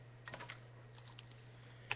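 Light typing on a computer keyboard: a few quiet, quick keystrokes in a short burst, then scattered single clicks over a steady low electrical hum.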